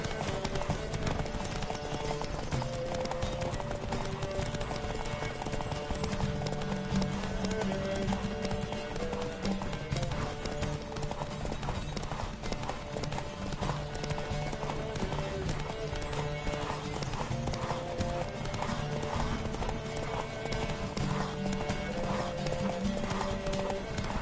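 Horses gallop in a race in the video game The Witcher 3, their hooves pounding a fast, continuous clip-clop under a busy music score with occasional speech.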